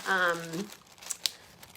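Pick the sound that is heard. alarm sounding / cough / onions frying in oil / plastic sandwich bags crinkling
plastic sandwich bags crinkling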